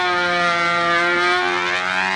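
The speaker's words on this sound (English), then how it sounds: "This looks like he's on a little bit of a lean run from the way the motor sounds." A small glow-fuel model airplane engine, 12 1/4 size, running slightly lean, holds a steady high-pitched whine, loud and continuous, with no voices.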